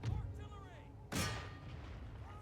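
Artillery cannon fire in the video game Empire Total War: two loud booming blasts about a second apart, the second sharper and brighter, with rumbling battle noise between them.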